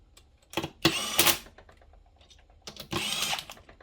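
A power tool runs cylinder head bolts down on a fully ported Yamaha 760 engine in two loud bursts, a short whirring run near the start and a longer one after a pause, close and without talk.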